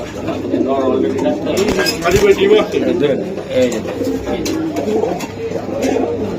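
Racing pigeons cooing in a loft or market, soft throaty coos close by under steady conversation from several people.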